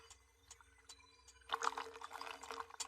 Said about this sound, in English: I'm pouring the oil myself.